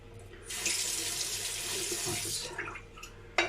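Running tap water rinsing at a sink, a close steady splashing rush lasting about two seconds, then a few trickles and a short clatter at the end.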